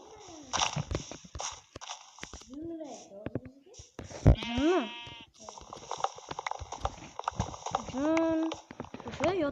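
Sheep bleat several times in a village survival video game, among clip-clop hooves and other farm-animal sounds, with a person talking over them.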